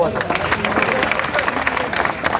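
A crowd of teachers at a protest march in Ratnagiri clapping in a dense, irregular patter, with murmuring voices mixed throughout.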